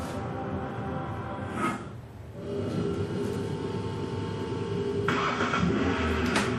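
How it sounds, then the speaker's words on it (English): Car engine cranking and catching, a dip in noise followed by a steady mid-range running rumble with a few brief surges, heard at moderate distance. "This is the sound of a car engine."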